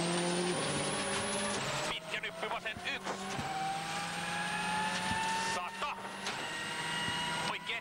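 A Ford Focus WRC rally car races flat out at over 180 km/h on an Australian rally stage, its engine note howling and shifting with gear changes under continuous commentary.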